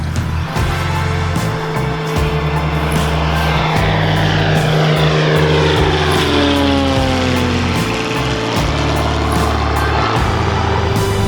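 Small propeller airplane coming in to land, its engine droning loudly and steadily with a shifting pitch as it passes close, accompanied by broadband rushing noise and no voices.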